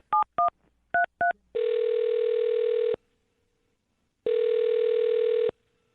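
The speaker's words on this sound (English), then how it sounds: "I'm going to dial her phone number right now" Telephone keypad tones beep as a number is dialed in quick pairs, then two long steady ringback tones sound with a silent gap between, clean and close with no voices.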